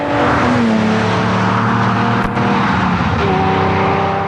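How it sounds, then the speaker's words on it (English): A 1974 Lamborghini Countach LP400 drives at speed, its engine note loud and close, holding a steady drone with rising pitch as it accelerates, and a brief thump midway. "The car he is driving is a Lamborghini."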